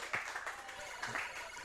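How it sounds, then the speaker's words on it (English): Brief audience clapping at a speedrun event featuring Shovel Knight on PC, a short patter of claps under a talking voice at moderate distance. "Don't applaud that."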